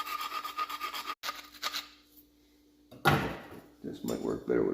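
A file rasps in quick repeated strokes to clear rust off metal tangs before welding, then falls quiet before rougher, louder scraping and handling noises take over near the end.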